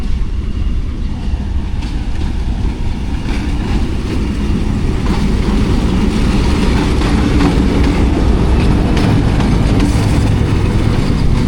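Diesel locomotive 8068 arriving at Attock City Junction on a hot day, a steady loud low rumble of engine and rolling wagons with faint clickety-clack throughout, no talk.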